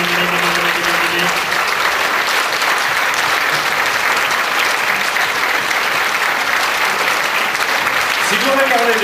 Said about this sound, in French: Pour l'applaudissement final.